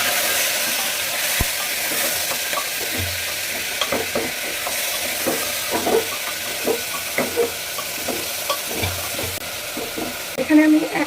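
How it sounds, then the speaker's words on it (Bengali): Onion sizzles in a frying pan for a beef boti kebab, a steady crackling hiss broken by intermittent stirring scrapes and clinks, close and continuous. "সাথে একটু পেঁয়াজ দিয়ে দিলাম।"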